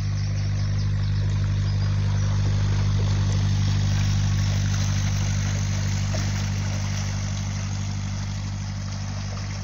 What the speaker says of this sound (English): Just have a shot of the boat going by.